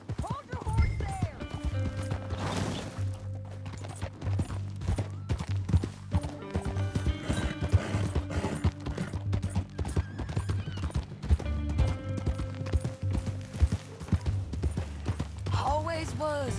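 Horse hooves clip-clop steadily through a Red Dead Redemption 2 game scene, a continuous trotting rhythm beneath game music, with occasional whinnies.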